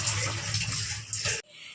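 Vegetables rinsed under running water in a home kitchen, a brief steady gush of tap water close by that cuts off sharply after about a second and a half.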